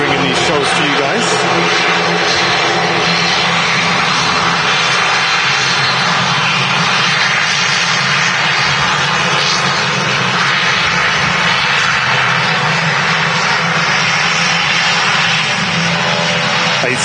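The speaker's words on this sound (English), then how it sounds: "ATR 72 in from Dublin." An ATR 72 turboprop airliner arriving from Dublin at Manchester Airport, its loud sustained engine roar and propeller whine filling the whole stretch, with a voice talking over it.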